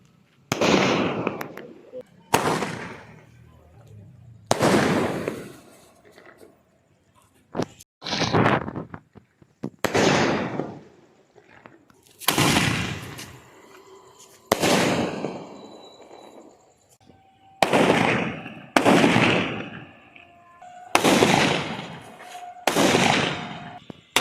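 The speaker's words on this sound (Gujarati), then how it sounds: "આપણે જે ઘણા બોમ્બ પડ્યા છે આજે આરસીબીના સેલિબ્રેશનમાં" Firecrackers and bombs set off at a street celebration of an RCB IPL championship win, about ten loud, close bangs with sharp attacks and crackling tails, spaced a couple of seconds apart, with voices in between.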